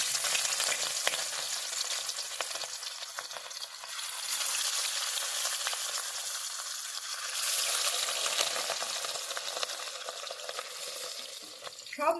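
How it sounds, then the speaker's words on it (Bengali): Katla fish pieces coated in salt and turmeric fry in mustard oil, a dense, continuous close sizzle that swells and eases slightly over time, heard alone without speech. "এবার নুন হলুদ মাখিয়ে রাখা মাছগুলোকে ভালো করে এপিট ওপিট ভেজে নিন"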